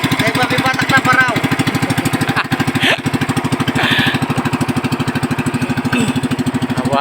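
A boat engine towing two broken-down boats chugs loud and close in a fast, even rhythm, with people talking over it.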